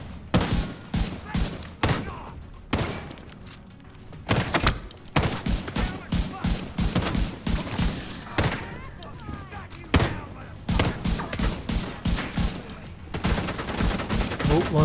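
Repeated bursts of machine gun fire from the video game The Division 2, with sharp, loud shots arriving in irregular clusters separated by brief pauses over about fifteen seconds.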